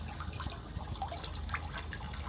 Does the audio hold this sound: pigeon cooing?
no